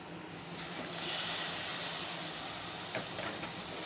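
Prawns hit a pan of sautéed masala and sizzle with a continuous hissing crackle that swells loudly, then settles into a steady fry with a few small pops near the end.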